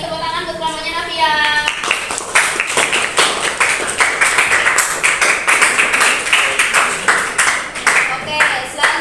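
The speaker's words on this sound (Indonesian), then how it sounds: "tepuk tangan untuk kelompoknya Novia." Students in a classroom applaud a group after its project presentation. A brief voice is heard at the start, then dense, steady clapping from many hands continues close by for several seconds.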